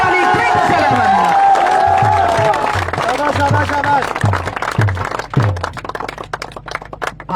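A crowd claps and cheers for the captain of the champion team, Kapoor Wali Kings, at a tournament final, with voices and steady drum-like thumps running through the applause.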